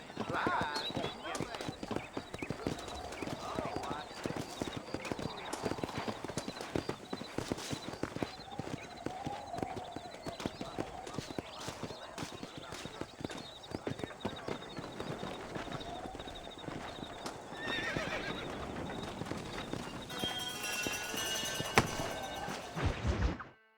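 Horses clip-clopping at a run with an occasional whinny in the Red Dead Redemption video game, a steady loud trot under continuous talk and game sounds throughout.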